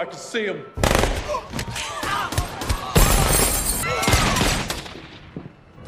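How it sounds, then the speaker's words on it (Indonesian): A chaotic burst of rapid gunshots and sharp cracks from a shootout with security guards in the film Safe (2012), with shattering impacts and shouting voices mixed in, loud and dense throughout. "Hingga terjadi aksi baku tembak dengan petugas keamanan di sana."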